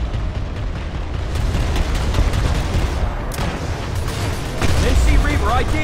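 Rapid bursts of anti-air turret fire in a sci-fi vehicle combat game, dense booming gunfire that swells louder toward the end, with voices talking over it.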